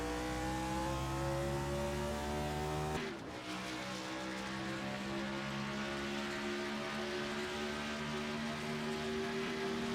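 Race cars roar together in a Pro Series race in the video game Dustbite, with dense, loud engine whine from several cars. A sharp skid or impact jolts the sound early on, then the engines drone on steadily.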